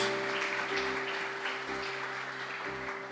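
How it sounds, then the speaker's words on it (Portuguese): A church congregation at a family worship service claps together, a soft, continuous patter of many hands under a steady sustained organ or keyboard tone. "Pode aplaudir Jesus pela vida dela."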